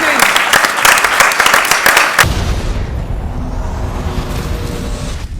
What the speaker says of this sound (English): Round of applause for our cast and